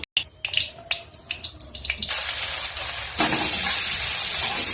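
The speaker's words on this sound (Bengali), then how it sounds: "কড়াইয়ে তেল দিয়ে দিয়েছি তেল গরম হয়ে গেছে এবারে সয়াবিনগুলো দিয়ে দেবো" Soybean chunks drop into hot oil in a wok, setting off a loud, steady frying hiss after a few clinks and stirring taps; no one talks.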